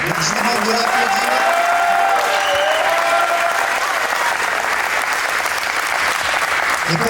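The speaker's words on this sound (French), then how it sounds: "je vous demande de l'applaudir" An audience gives sustained applause for Vera at an event about badminton, with thick, even clapping and crowd noise lasting the full seven seconds and a few voices mixed in.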